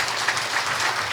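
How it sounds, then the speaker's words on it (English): Applause at a New Year's Gala 2020 for the Honorable Lindsey Grant and his team, a steady, dense wash of clapping from a hall audience, fairly loud and continuous throughout. "Let's give the Honorable Lindsey Grant and his team a round of applause"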